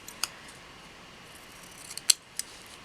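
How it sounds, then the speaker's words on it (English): Scissors snipping paper floral cutouts for a planner spread, a few crisp isolated cuts close up against a quiet room. "And then I'm also going to cut up some of the florals"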